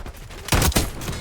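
A short burst of rapid gunfire in the video game Call of Duty Black Ops 6: a few loud, close shots cluster together over roughly a third of a second, with no talking.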